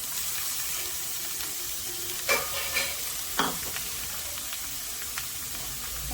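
Grated beet and carrot going into a hot pan for vegetable chop, giving a steady soft sizzle with a few scrapes and clinks of a spatula stirring them close by, with no talking.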